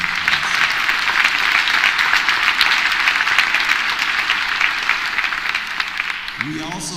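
A university audience applauds at the State of the University address, a dense, steady wash of clapping that holds for several seconds before easing off, with a voice coming in at the very end.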